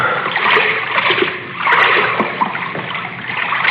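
Someone wades through waist-deep water in a dark sewer, sloshing and splashing in close, uneven surges with a few dripping trickles, heard alone in a drama scene.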